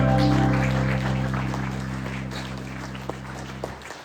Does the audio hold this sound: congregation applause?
yes